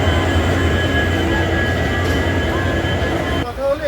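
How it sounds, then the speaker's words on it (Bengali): The Kanchanjangha Express pulls out of Silchar with a loud, steady rumble of wheels and carriages and a faint tonal squeal, heard from on board, dropping away sharply near the end. "11:35 বাজে ট্রেন ছেড়ে দিল"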